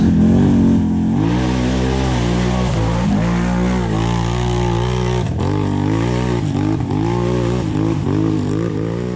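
An ATV on new mud tires revs hard during a ride, its engine note climbing and falling in loud, continuous surges from close by with no talking.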